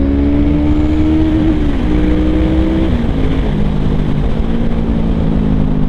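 A standard, unmodified BMW cruiser motorcycle engine idles and revs steadily, its deep harmonic tone rising and dipping a few times, loud and close throughout with no talking.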